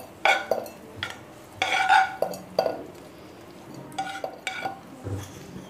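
Boiled and cooled green chillies and ginger dropped into a steel mixing jar in a home kitchen, giving a few sharp clinks and knocks of metal in separate bursts, close and fairly loud with quiet gaps between.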